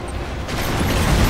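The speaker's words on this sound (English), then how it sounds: "Severe explosion detected." Explosion in the real-time strategy game Command & Conquer 3: Kane's Wrath, heard as a dense, loud rumbling blast that swells and sustains without any voices.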